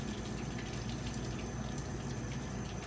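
Hot water runs from a kitchen tap in a steady, continuous rush, fairly faint and alone without voices.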